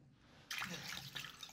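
Water in the virtual-reality horror game Resident Evil 7 VR suddenly starts running and splashing over a hand, a soft, quiet gush after a brief hush.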